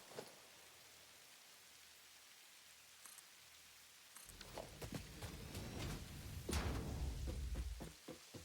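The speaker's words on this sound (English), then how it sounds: "Why does it sound like it's raining?" Video game rain inside a cave: steady rain patters softly, then grows heavier and louder, with scattered drops tapping nearby.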